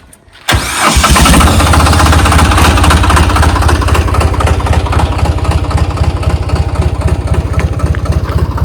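A mini tractor engine starts abruptly and then runs loud and close. It settles into a steady, rapid, chugging diesel rhythm under strain and keeps going with no voices.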